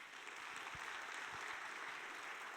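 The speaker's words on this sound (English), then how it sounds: "I would like everyone to give them a quick round of applause." An audience applauds panelists at the close of a conference panel on data-driven decision making, with steady, sustained clapping that fills the whole moment at an even level.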